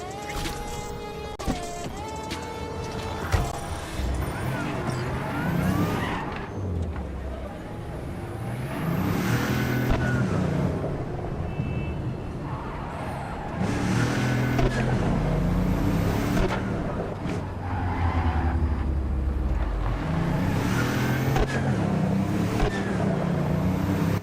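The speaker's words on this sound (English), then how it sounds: "Love the unadulterated sound of this car every once in a while" A car engine in Cyberpunk 2077 revs and accelerates continuously, rising and falling in pitch as gears shift, loud and close throughout with no talking.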